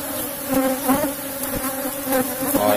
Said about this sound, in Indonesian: Oh ya tawon kesurupan.